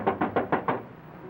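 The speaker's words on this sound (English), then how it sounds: "With a couple of cops hammering at the door." Five hard, evenly spaced knocks land on a door as police pound on it in a 1943 comedy film scene, loud and close, then fade to quiet.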